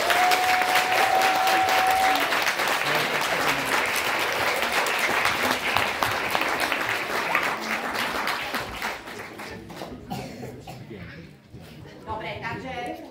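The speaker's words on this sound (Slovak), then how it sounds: "Veľký potlesk prosím." After a children's theatre performance, an audience breaks into loud, dense applause that holds steady for several seconds before thinning into scattered claps and a few voices.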